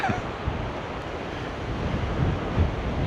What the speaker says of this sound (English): there's some good breakers on that sea